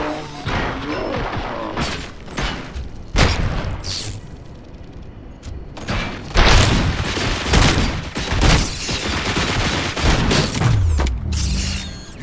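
Gunfire from the video game RoboCop: Rogue City, set in an old factory: loud, close bursts of shots and heavy booms that come in clusters, with mechanical clanks and short lulls between the volleys.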